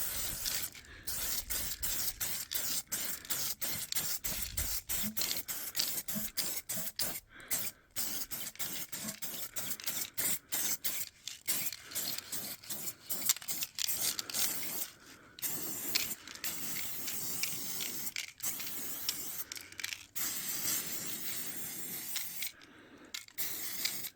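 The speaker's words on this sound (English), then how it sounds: "I'm spraying quite a bit of it" Repeated bursts of spray paint hiss onto a cracked plastic tricycle frame, steady and close with short gaps between pulls, over a faint background rumble.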